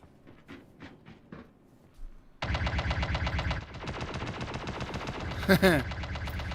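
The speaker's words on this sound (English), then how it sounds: "it's a plasma rifle, that's why" Plasma rifle fire in the Star Citizen video game: a few sparse shots, then sustained rapid automatic bursts with a steady mechanical rattle, loud and close, with a brighter impact flare near the end.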